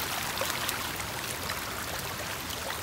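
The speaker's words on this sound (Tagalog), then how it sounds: "Sobrang lakas ng tubig." Strong rushing stream of water flowing down from the mountains into irrigation channels and spilling onto a road, a steady, loud, broadband roar that continues without a break, with no voices.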